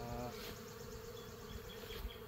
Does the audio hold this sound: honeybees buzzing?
yes